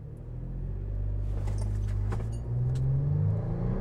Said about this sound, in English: I'm gonna try 0-60 in here. I'm gonna shut off traction control.